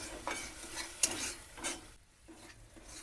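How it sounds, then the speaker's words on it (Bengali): Pointed gourd sautés with turmeric and salt in a pan, a soft sizzle under repeated scraping and stirring strokes of a utensil, with a light metallic clink, fairly quiet and close. "আর দিয়ে দেবো পরিমাণ মতন হলুদ আর পরিমাণ মতো লবণ আবারও আমি ভালো করে কষে নেব"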